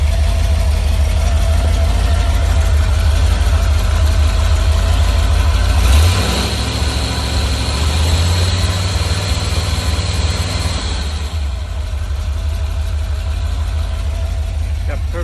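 A carbureted 4.0-litre Rover V8 runs on an engine stand, loud and close, with a steady low idle rumble and a brief rise in revs around the middle before settling back.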